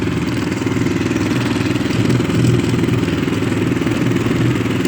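Walk-behind tractor (motoblock) engine running while driving through snow: a loud, close, steady mid-pitched chugging drone with rapid clattering pulses and a slight surge in the middle, with no talk.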